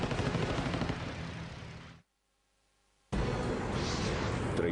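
Rear machine gun of a WWII aircraft firing tracers at a fighter plane over Guadalcanal, a dense roaring burst of rapid fire that cuts to near silence for about a second, then resumes just as loud.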